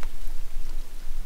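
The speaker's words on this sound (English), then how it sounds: "Starting to hear some raindrops" Raindrops falling on a tarp at a wilderness campsite, a brief, close burst of dense pattering and tapping that stays loud and even throughout.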